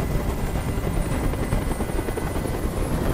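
A helicopter hovers overhead in the video game Detroit: Become Human, its rotor producing a loud, continuous, pulsing thump layered over broadband engine noise, with no speech.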